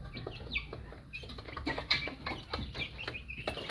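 Light Columbian Brahma hens at breakfast feeding time, soft scattered clucks and brief wing flaps close by over a low background murmur, faint and irregular.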